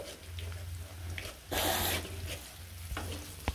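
Tomato chutney fries in a pan with a soft sizzle. A brief louder hiss bursts out near the middle, and a few faint spoon clinks follow.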